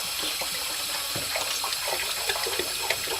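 Water pours steadily from a tap, splashing and rushing into a large pot with a constant, close, full sound.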